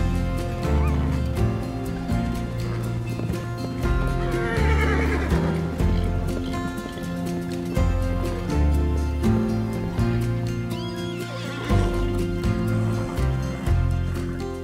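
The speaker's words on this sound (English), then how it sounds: "Kowalski horses. Ancient Mongolian stock. The only horses in the world that are truly wild." Przewalski's horses, an ancient Mongolian wild breed, whinny in two drawn-out calls set within a swelling orchestral music bed that carries on throughout.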